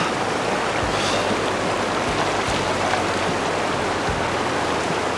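Clear, cold mountain river water flows and rushes past nearby, a loud, constant broadband wash with no breaks or voices.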